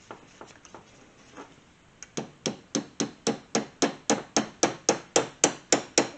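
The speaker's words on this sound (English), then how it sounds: "Let's see if we can get it to push through." A hammer strikes a Snap-on punch to drive a pin out of a Kawasaki KZ400 carburetor during a rebuild, first a few light taps, then a steady run of about fifteen sharp, evenly spaced metallic blows, close and clear.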